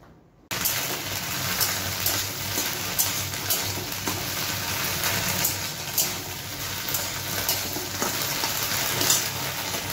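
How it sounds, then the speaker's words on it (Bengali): Okra curry sizzles steadily in a pan, a loud continuous frying hiss that starts abruptly and carries on with faint scraping and clinks, no talking. "আর এখানে ভেন্ডির তরকারি দিয়ে আসছি"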